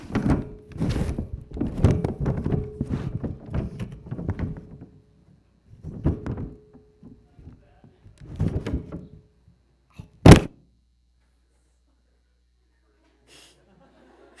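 A door shuts with a single solid thunk in a meeting room at a student government general assembly. Talk and some chuckling come before it, and near-silence follows.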